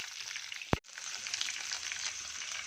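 Cashew pieces and green chillies fry in a pan for sweet broken-wheat pongal, with a steady close sizzle, one sharp knock near the start, then continuous crackling hiss.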